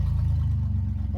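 Car engine revving hard through a burnout, a steady loud low rumble that holds throughout with slight fluctuation, close by and without voices.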